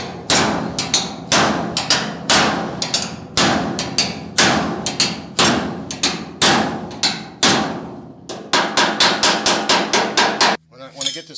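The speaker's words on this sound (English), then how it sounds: "So I need it to kind of pull down as I'm hitting it, so I'm slapping it" Repeated hammer slaps on the bent edge of a damaged car wheel well, loud, close and evenly spaced in quick bursts of metallic thuds, with a faster volley near the end and no talking.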